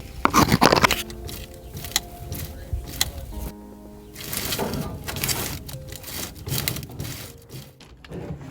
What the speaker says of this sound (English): The steering cable is moving the dirt on the ground, making a very interesting noise.